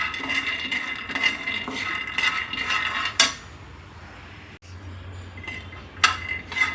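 Peanuts roast while being stirred on low heat in an iron pan, giving repeated scraping and rattling clinks in quick bursts, with a brief quieter stretch before the stirring picks up again.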